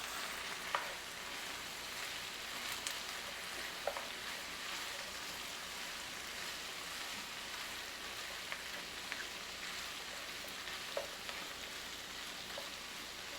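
Chopped onions being stirred into meat frying in a pan for steak chilli: a steady, dense sizzle throughout, with a few sharp spoon clicks and scrapes against the pan, no voices.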